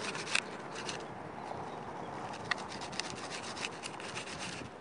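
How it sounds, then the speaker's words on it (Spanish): Fishing bait being cut by hand, heard as a quiet, steady scraping and rasping up close with a few faint clicks and no talking. "Vamos a cortar un poquito más."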